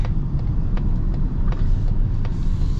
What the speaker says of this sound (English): you hear a little bit of road noise, but that acoustic glass helps out quite a bit